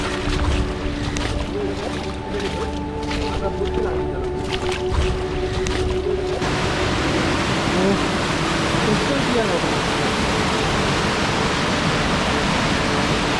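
Water rushes past at a monsoon stream crossing near Dhodhani waterfall, a dense, steady roar that grows louder and broader after a few seconds, with a few faint voices early on.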